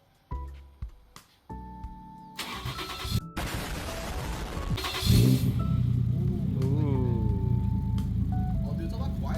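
A Toyota Cresta JZX100 with its 1JZ engine and no coolant in it is cranked and fires. The starter whirs, the engine catches, and it settles into a loud, steady idle close by, with voices speaking over it.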